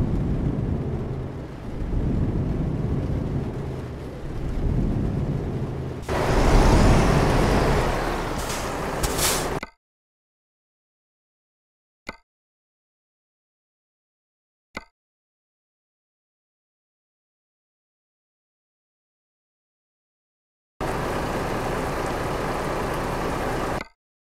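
Steady rain hisses loudly for several seconds and swells into a heavier rumbling burst of thunder. Near silence follows, broken by two faint ticks, before the rain noise returns.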